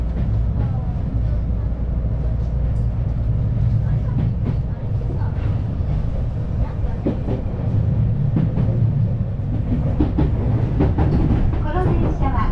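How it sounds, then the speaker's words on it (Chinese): Tokyu Railway express train bound for Shibuya in Japan, heard from inside the car: a steady, loud rumbling roll with rhythmic rail clatter and occasional clicks, continuous throughout, with faint voices in the background. "老压缩坐电车了"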